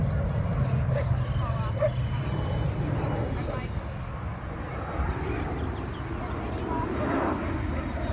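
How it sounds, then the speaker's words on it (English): A chocolate Labrador barks and yips repeatedly outdoors, the dog sounds mixed into steady background noise and people talking nearby. "The chocolate lab is barking at everybody."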